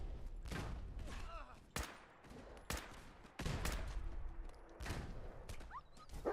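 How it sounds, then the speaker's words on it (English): Heavy minigun and gunner fire in Fallout 4, sharp loud cracks and sustained rattling bursts spaced through the scene, with impacts and shots ringing out near and far. "That guy got a minigun."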